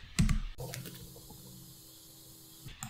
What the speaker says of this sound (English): So open the terminal and type truffle